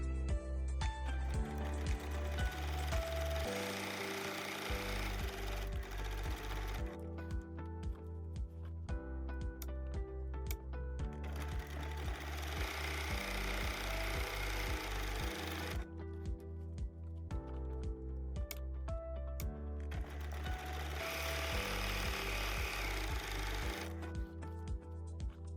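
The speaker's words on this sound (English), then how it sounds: "I'll start at the bottom and I'll sew to the top of each line past the pocket piece" A sewing machine stitches straight lines across a fabric pencil wrap case, running in long steady mechanical whirring passes with brief pauses between each line, close and even.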